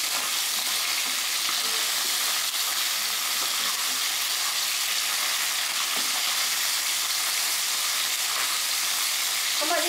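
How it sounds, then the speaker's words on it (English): Salmon pan fries for a salmon and tofu soup, a loud, continuous close sizzle and hiss of hot oil that holds steady throughout. "Pan fry the salmon until both sides are golden brown."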